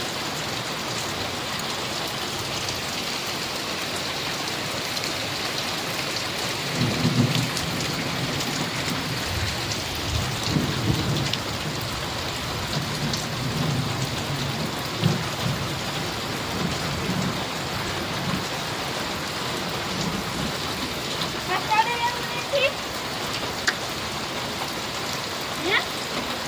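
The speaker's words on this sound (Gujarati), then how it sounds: "જોરદાર વરસાદ આવ્યો છે" Heavy downpour with wind during a June monsoon storm in Gordka village, Gujarat, a steady broadband roar of rain on surfaces with gusting swells and a few brief louder bursts, no talking.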